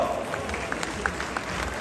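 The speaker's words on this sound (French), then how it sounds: "Voilà, applaudissements" Audience applause at a cattle show, a steady wash of many hands clapping together at close range, dense and even throughout with scattered louder claps.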